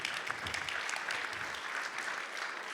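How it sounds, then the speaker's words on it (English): An audience at a community volunteer awards ceremony applauds a lifetime achievement honoree with steady, dense clapping that holds evenly throughout, close and full, with no speech over it. "let's give him a huge round of applause"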